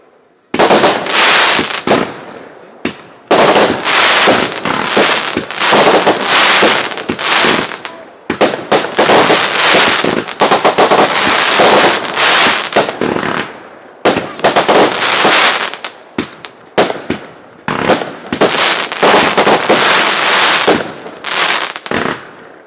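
A Canada Day fireworks display at an RV park, Superior Shores R/V Park, crackles and bursts in loud, dense, continuous volleys with brief gaps for over twenty seconds, close and overwhelming.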